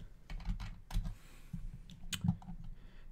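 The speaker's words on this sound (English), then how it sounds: "So if I type in Robert Quinn" Quick bursts of close clicking keystrokes on a computer keyboard as a name is typed into a search in a Madden 17 Ultimate Team session, with brief pauses between keys and no talk.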